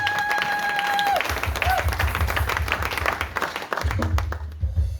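A church congregation applauds in a dense, steady wash of clapping that runs nearly the whole time, with crowd voices mixed in, a low rumble beneath, and a brief lull near the end before it swells again.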